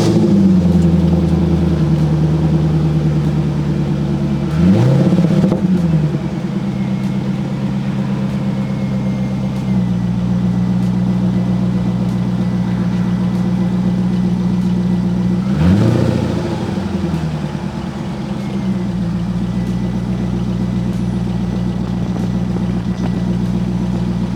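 2001 Chevrolet Corvette in Millennium Yellow, top down, running loud and close: a steady low idle with two rising revs that fall back, no talking.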